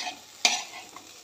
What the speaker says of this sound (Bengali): দেখো আলু ভাজা প্রায় হয়েও গেছে